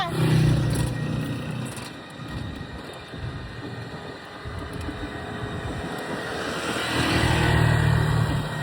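A car engine rumbles and pulls away, a steady, fairly close drone that rises and falls gently over several seconds with no talking over it.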